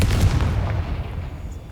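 Confringo fire-blast spell in the video game Hogwarts Legacy, a single loud deep boom that rolls into a fading rumble over under two seconds.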